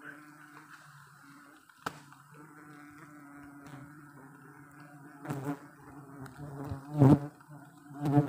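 Honey bees buzz during a wild sialang honey harvest in Siak, Riau, a continuous droning hum close by, swelling louder near the end, with occasional thumps and faint background voices.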